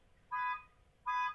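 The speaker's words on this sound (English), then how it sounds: "And you can hear somebody's car alarm going off." A car alarm goes off outside, heard faintly at a distance as two short, even electronic tones with a brief gap between them.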